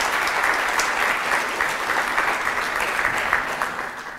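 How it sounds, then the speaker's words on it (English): Conference audience at a PHP developer conference giving a standing ovation, sustained dense clapping throughout at steady loudness, close and full. "So could you all give me a round of applause?"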